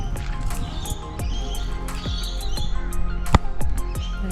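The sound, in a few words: birds chirping at riverside campsite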